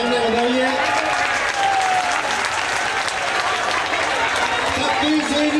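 Dense, sustained applause from a crowd at a Congress party rally as a leader arrives, loud and continuous throughout with mixed voices and chatter inside the roar.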